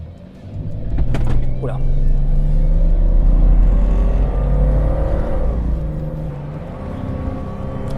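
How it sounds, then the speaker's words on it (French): A 1989 Jeep Wagoneer XJ, a luxury Cherokee, accelerates hard from standstill toward 100 km/h with a kickdown, its engine droning as a steady loud low rumble heard from inside the cabin, with a brief voice exclaiming over it. "On va quand même se faire une petite accélération, un petit 0 à 100 pour voir ce qu'il a dans le ventre."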